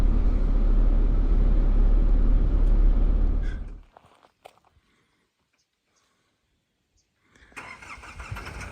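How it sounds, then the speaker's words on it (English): A car engine rumbles loudly at close range on the road from Hyden to Norseman, then fades abruptly as the car drives off, leaving near silence before another burst of noise returns. "just waiting for this car to go."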